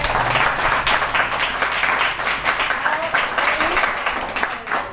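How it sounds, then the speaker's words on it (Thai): Guests at a birthday merit-making gathering clap together in a lively, continuous round of applause, close and fairly loud, with scattered voices mixed in. "ขอปรบมือให้กับผู้นำที่สองคนนะคุณพ่อคุณแม่"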